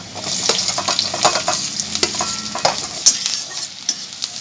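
Chopped onion hits hot mustard oil with minced garlic, a steady close sizzle and crackle broken by frequent scraping stirs of a spatula against the pan, with no talking.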